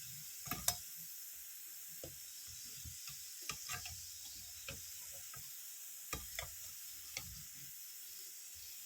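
Globe jamun dumplings frying in hot oil, a soft steady sizzle with occasional small pops and stirring clinks, fairly faint and without speech.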